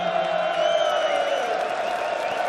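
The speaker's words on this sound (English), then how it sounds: "look at this crowd, absolutely phenomenal" A large darts crowd at a Dutch tournament in Germany roars steadily, with cheering and applause forming a dense, loud wash throughout.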